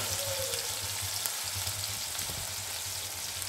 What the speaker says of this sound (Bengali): এবার আমি এতে দিয়ে দিচ্ছি বাকি মশলাগুলো।